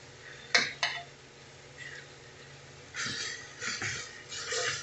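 Pork rack searing in oil inside a pressure cooker pot, giving sharp metallic clinks and scrapes of a utensil against the pan, then bursts of sizzling and hissing that swell and fade in close, uneven waves.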